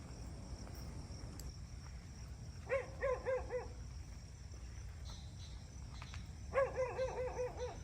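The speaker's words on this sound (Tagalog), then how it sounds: "Pasensya na po kayo sa tahol ng aso." A stray aspin from a neighbor's yard barks in two short rhythmic bursts of several yaps each, moderately distant, over a steady bed of crickets and outdoor night ambience at a house construction site in the Philippines.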